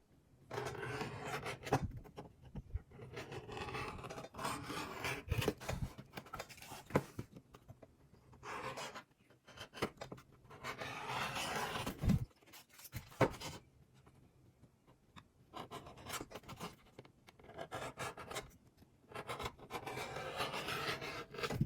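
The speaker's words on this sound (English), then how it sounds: "Then I use this tool here to bevel the edges of the sheath." Leather edge beveling tool trimming the edges of a knife sheath for a Damascus Bowie knife, heard as repeated close rasping, scraping strokes in short bursts with brief pauses between passes.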